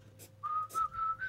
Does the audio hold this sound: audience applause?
no